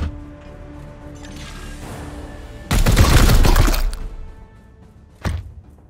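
Gunfire in the tactical video game Warhammer 40,000: Chaos Gate - Daemonhunters: a loud, roughly one-second volley of rapid shots follows a quiet stretch, with one sharp single impact a moment later.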